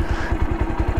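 A restored Bajaj Pulsar 180 motorcycle engine runs at a steady idle, close and fairly loud, with an even rapid low thumping pulse and no voices.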